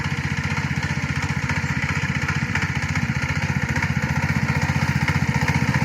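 A walk-behind tractor (motoblock) engine runs steadily on a village plot, its loud, even chugging continuing without a break for the whole stretch with no voices over it.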